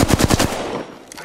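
Rapid automatic gunfire from a weapon in Apex Legends rattles out in a quick burst of about five shots, loud and close, then fades into quieter game ambience.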